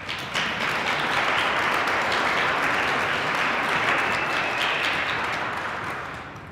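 A school DARE graduation audience breaks into sustained applause, a thick, even wash of many clapping hands that holds steady for several seconds before thinning out toward the end.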